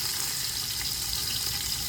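Onions added to a hot pan for pongal biryani fry with a dense, even hiss of sizzling oil, steady and unbroken throughout, with no talk.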